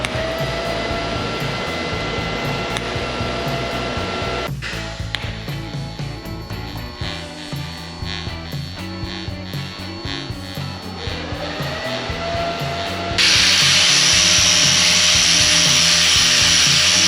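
Weld seams on a 1930 Dodge Coupe cab, being converted into a pickup, are ground down with a steady, loud, harsh whine. A sharp hit comes partway through, and the grinding swells brighter and louder near the end, with no voices.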